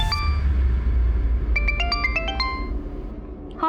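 A mobile phone ringtone sounds for an incoming call, playing a melodic run of bright electronic tones at moderate volume over a low background hum, with another brief tone at the end.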